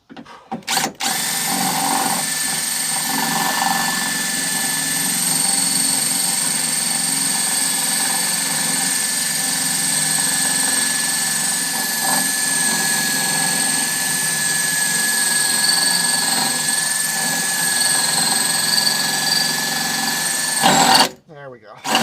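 A power drill whines steadily at high speed for about twenty seconds, loud and close, grinding through a metal rivet on an Astro van door before cutting off abruptly.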